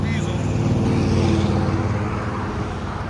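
A BMW X5 with a 3.5-litre diesel and straight pipes idles and rumbles with a steady low, rough drone, close and fairly loud, while people talk over it.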